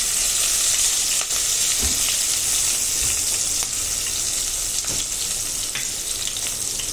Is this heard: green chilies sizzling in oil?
yes